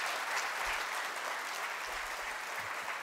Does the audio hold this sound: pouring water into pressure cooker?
no